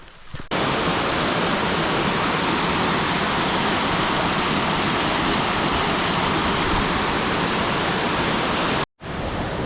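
Steady, loud roar of the lower Simvir waterfall pouring into the blue water hole near Sliven, Bulgaria, a dense unbroken rush filling the whole stretch before cutting off abruptly near the end.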